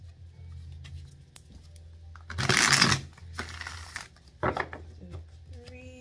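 A deck of tarot cards being shuffled during a reading, three short bursts of riffling and rustling, the middle and last ones louder, against a quiet room hum.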